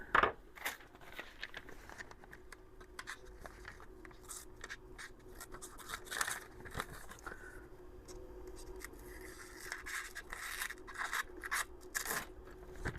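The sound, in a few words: D2 steel knife cutting paper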